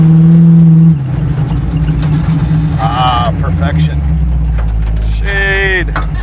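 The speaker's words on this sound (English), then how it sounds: "We're rolling down the highway, 60 to 70 miles an hour." A car cruises down the highway at 60 to 70 miles an hour, a steady low engine and road drone running throughout beneath people talking.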